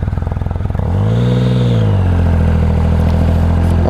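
A Triumph Rocket 3 motorcycle engine close by starts with a choppy, pulsing idle, then revs up after about a second into a loud, sustained, rising roar that holds steady to the end, with no voices.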